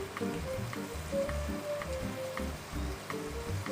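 Ghugni ingredients with tomato sautéing in a pan: a soft, even sizzle with a slow rhythm of low stirring knocks repeating underneath.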